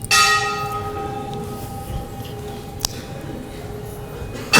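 A bell strikes loudly at the start of a class in Vrindavan and its tone rings on and slowly fades. A second, sharper strike comes near the end over a quiet room with faint voices.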